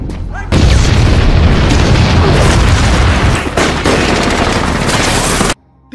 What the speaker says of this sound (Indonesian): Tim mortir mulai menembak target musuh yang bersembunyi di dalam reruntuhan bangunan.